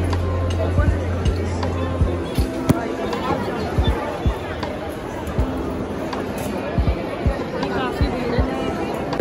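Dense crowd babble at a busy Kashmir airport, a steady hubbub of many overlapping voices with scattered thumps and footsteps throughout.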